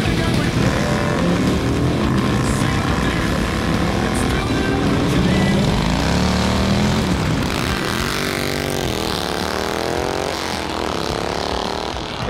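A custom Road King motorcycle engine roars loudly and continuously, revving up and down with rising and falling pitch, close by and unbroken for the whole stretch.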